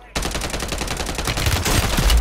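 Rapid, loud automatic gunfire in a Call of Duty match, a dense burst of shots starting abruptly and continuing to the end.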